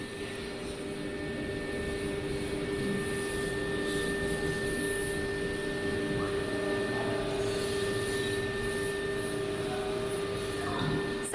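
A QUICK CNC 1530 CNC router with a DSP controller runs steadily, giving a continuous whirring hum with a high whine held through the whole stretch. Nobody speaks.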